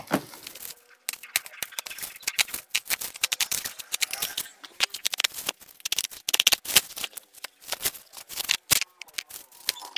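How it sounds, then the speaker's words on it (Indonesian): Unboxing a DJI Mini 4 Pro drone package: dense, close crackling and rustling of thick packaging being handled and torn, with rapid irregular clicks and crinkles throughout. "Sekarang kita unboxing langsung aja."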